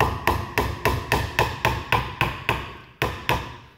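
A hammer drives small brads into pre-drilled holes in a wooden hinged box, about ten sharp, evenly spaced strikes in a steady rhythm, close and loud with no talking.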